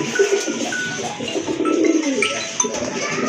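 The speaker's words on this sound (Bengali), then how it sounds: "এই যে দেখেন কবুতরটা কিন্তু খুব ভালো ডাকে" A pigeon coos in a mixed flock of pet pigeons, its low repeated calls sitting among other bird chatter and background activity, fairly close and steady throughout.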